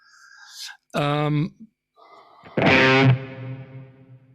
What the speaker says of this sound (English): So then I put a little bit of reverb,